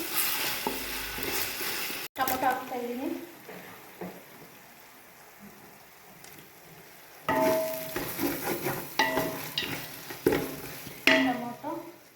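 Mutton mixture is stirred and fried in a pan, with a loud sizzle and spatula scrapes that come in bursts, a quieter stretch in the middle, then renewed vigorous stirring, close up.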